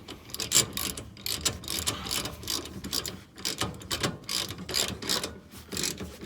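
Hand ratchet tightening bolts on the rear lower control arms of a 2001 Honda Civic, rapid clicking pawl bursts in quick repeated strokes, close and distinct with no talking.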